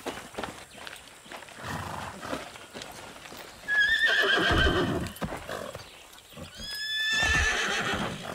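A horse whinnies twice, shrill and close, over heavy clopping hooves and thudding movement, in the video game Far Cry 6.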